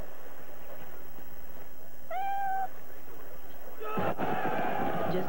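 A calico kitten stuck in a tree gives one clear, rising-and-falling meow, close by over a busy background, followed by a sudden clatter and crowd-like noise in a TV commercial.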